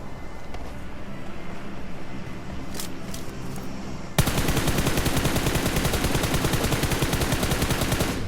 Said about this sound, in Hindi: और भाई मैं उस पर भाई फायर देता हूँ, लेकिन कद्दू कुछ नहीं होता मेरे फायर से।